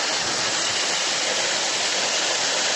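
A village waterfall roars as a steady, broadband rush of falling water, close and loud, unbroken throughout.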